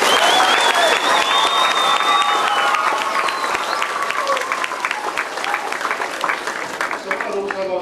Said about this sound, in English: So give him a big clap.